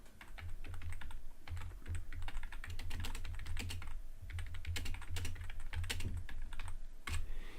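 Fingers type on a computer keyboard in steady runs of quick, close keystrokes with brief pauses between bursts.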